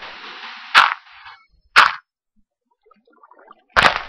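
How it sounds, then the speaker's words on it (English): Explosions in the Minecraft video game, three sharp blasts spaced out with a hiss before the first and quiet gaps between, loud and alone. "Alright, explosion time."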